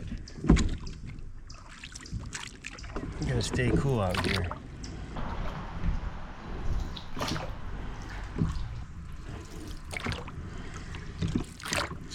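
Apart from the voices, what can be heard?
canoe paddling on a pond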